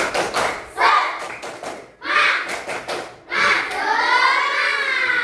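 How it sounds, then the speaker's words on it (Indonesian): A classroom of children performs a rhythmic spirit clap, bursts of patterned clapping and thumping repeated in several short phrases with chanting voices mixed in, close and lively. "kita ice breaking dulu, tepuk semangat ya"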